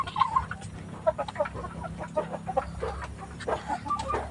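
Laying hens, some nearly two years old and slowing in egg production, cluck repeatedly in short irregular bursts at close range over a steady low coop hum, with no one talking.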